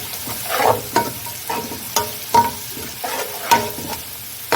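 Biryani paste and ingredients fry in a hot pan, soft sizzling broken by repeated sharp scrapes and knocks of a spoon stirring against the metal, close and fairly loud.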